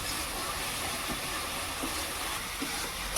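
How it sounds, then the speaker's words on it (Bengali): Tilapia curry spice paste with onion, garlic and chilli powder frying in a pan, giving a steady, continuous sizzling hiss that holds at an even level throughout with faint soft scrapes from stirring and no talk. "এটাকে বেশ কিছুক্ষণ ধরে কষতে হবে"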